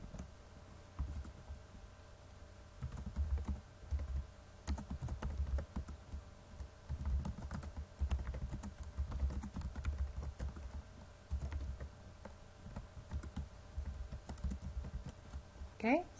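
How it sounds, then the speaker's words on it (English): Steady typing on a computer keyboard, a fairly quiet run of quick close key clicks, with a faint voice speaking in places. "And then we will type in the names of a few games that could be included in our list"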